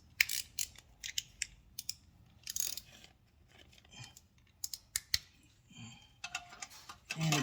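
A 6mm tool snugs the bolts of an Arrow titanium 3/4 cat-delete exhaust on a 2021 Kawasaki ZX-10R: sparse, light metallic ratchet clicks and taps in short irregular bursts, close by with no talking.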